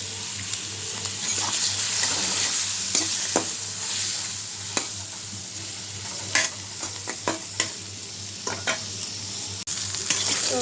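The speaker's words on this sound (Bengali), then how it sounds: "বেশি ভাজবো না, এটা আমি হালকা করে ভেজে নেবো।" Goat liver fries in hot oil seasoned with turmeric and salt, a steady close sizzle running throughout, broken by occasional sharp scrapes and knocks of a spatula stirring in the pan.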